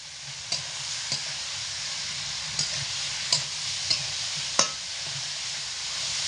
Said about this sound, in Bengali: আলুগুলোকে দিয়ে তেলের মধ্যে রেখে মোটামুটি দু মিনিট মতো হালকা নাড়াচাড়া করে দেব